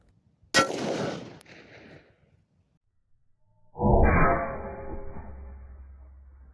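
A 6.5 Creedmoor rifle fires armor-piercing rounds outdoors, a sharp loud crack followed by a fading tail, then after a quiet gap a second heavy boom with a long rolling echo.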